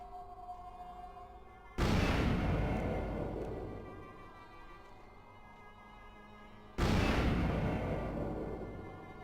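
Two grenade explosions in the game Vampire: The Masquerade – Bloodlines, each a sudden loud boom followed by a long rumbling decay, about five seconds apart.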